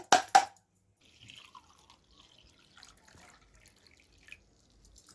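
Flax seeds being washed by hand in water: two splashy swishes at the start, then faint scattered drips and small water sounds, close and quiet without talk.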